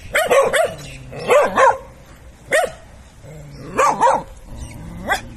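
A dog barks in short bursts, often in quick pairs or triplets, with pauses between; close and fairly loud, with nothing else competing.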